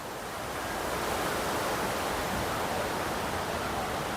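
Broad, steady rushing roar of a large river current flowing through dam gates at the Pucang Gading dam, continuous and loud with no voices over it.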